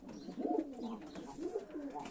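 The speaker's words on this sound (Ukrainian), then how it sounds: "Нові голуби." Two purebred German pigeons coo softly nearby in short, throaty rolling calls, a couple of repeated phrases over a quiet background.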